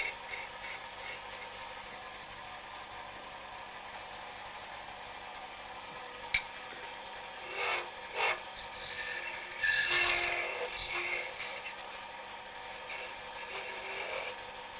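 A Carter & Son M42 detail gouge cutting the point of a wooden spinning top on a lathe at a woodturning club demo, a steady rasping hiss over a low motor hum, with a few brief louder scraping bursts midway.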